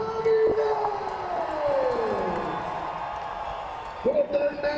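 A loud arena crowd at a professional kickboxing event in El Paso, Texas, cheers and roars steadily throughout, with a rising siren-like whoop cutting through near the start and again near the end, heard alongside an announcer's talk.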